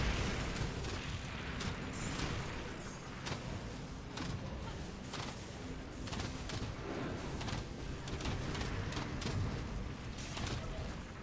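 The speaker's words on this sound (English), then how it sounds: "watch out for the explosions when the enemies die" Repeated explosions as enemies die in the action RPG Grim Dawn, with a string of booming bursts and impacts scattered irregularly across a constant rumble of game combat.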